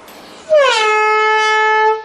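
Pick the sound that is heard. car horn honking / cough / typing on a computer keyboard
car horn honking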